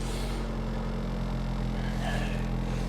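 A used car at a Copart salvage lot idles with a loud, steady rumble and a faint rise in pitch as it is revved, heard from close by without speech.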